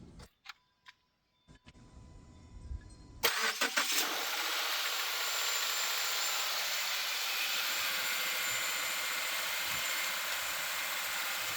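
A 2017 Subaru Forester engine cranks and catches after a few clicks and thumps, then settles into a steady, even idle that continues close by with no talking.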